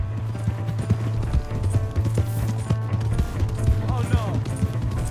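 A horse's hooves clopping at a run in the Red Dead Redemption 2 video game, with steady rhythmic hoofbeats and a brief whinny, under a voice.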